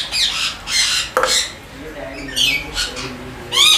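Exotic parrots in a breeding setup in Karachi give loud, harsh squawks in repeated bursts, close by, with a few quieter calls between them.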